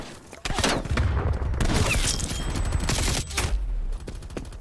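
Rapid gunfire in Call of Duty Cold War from a Hauer 77 shotgun and surrounding fire, dense loud bursts and booms packed together for several seconds, close and intense.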